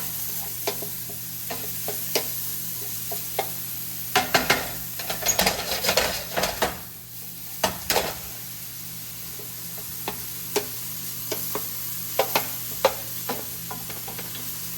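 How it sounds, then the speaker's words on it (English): Onions for meatloaf sauté in a pan with a soft steady sizzle, broken by repeated clicks and scrapes of a utensil stirring against the pan, with no talking. "do your onions first. We're not going to fully saute these."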